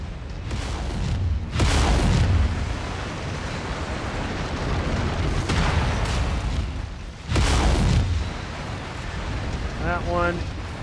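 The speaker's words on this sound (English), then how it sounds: "Critical explosion imminent." Heavy booming explosions from the mech combat video game MechWarrior 5: Mercenaries, fought in city streets, roar out in two or three loud bursts over continuous rumbling battle noise, with a brief synthetic computer voice near the end.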